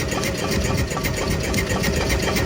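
A wood-fired Stirling engine driving an alternator runs with a fast, steady mechanical chatter and rhythmic thumping, close and continuous, with no talk over it.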